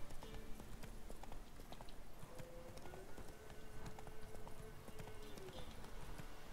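Steady clip-clop of horse hooves at a running pace from The Witcher 3: Wild Hunt video game, continuous and fairly quiet, with a faint whinny-like tone in the middle.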